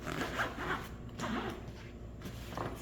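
A camera backpack case being zipped shut, with several quick ratcheting zipper pulls close by, each lasting a fraction of a second, with no talk over them.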